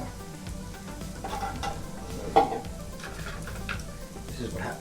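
Garlic frying in hot oil for eggplant omelette, a steady crackling sizzle throughout with a brief louder clatter near the middle, close and alone without talk.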